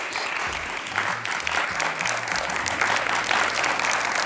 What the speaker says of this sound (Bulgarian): Аплодисментите за Михайла